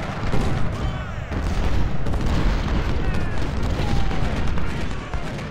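Dense, rumbling battle noise with repeated booming cannon fire over a constant roar, loud and close, in the American Civil War strategy video game Ultimate General: Civil War.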